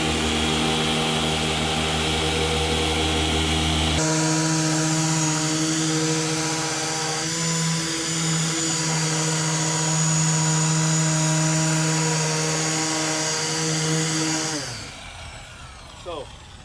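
A car polisher fitted with a microfiber cutting pad hums steadily and loudly as it cuts paint scratches during a detailing demo, its tone shifting when pressure changes before it winds down near the end.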